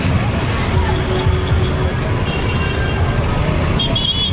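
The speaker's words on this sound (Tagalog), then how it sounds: "Traffic talaga dito." Busy road traffic near Baltimore Mall: a dense, steady rumble of cars and buses with a brief horn toot, surrounding chatter and people talking over the roadway noise throughout.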